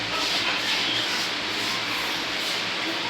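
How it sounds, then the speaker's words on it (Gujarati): Urad dal vada batter with coriander, garlic and chili paste being mixed and beaten by hand, giving a steady, dense, close-up rubbing and squelching texture with no pauses and no voices. "આવી રીતે આપણે હાથથી મિક્સ કરી દઈશું અને બરાબર એને ફેંટી લેવાનું છે।"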